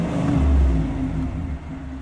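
Steady low rumble of a 2024 Chevrolet Silverado 1500 High Country's 6.2L V8 through its active exhaust in normal mode, a muted idle swelling briefly then settling, heard alone and close.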